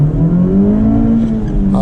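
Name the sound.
2024 Honda Civic Type R accelerating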